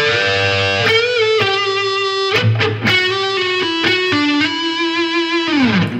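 Slow electric guitar lead playing the opening phrase of a solo, with sustained distorted notes and vibrato, played alone and loud without talk.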